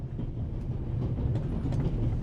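A passenger train rolls along the rails in The Raven Remastered, a steady low rumble with faint rhythmic clatter, continuous and moderately loud without speech.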